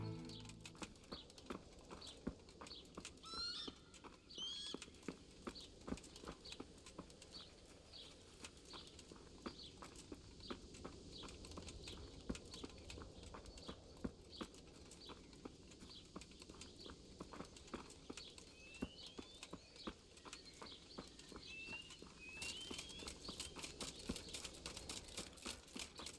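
Steady clip-clop of a white horse's hooves walking in Kingdom Come Deliverance, a regular near rhythm running throughout over a soft outdoor ambience with occasional birdsong, no talking.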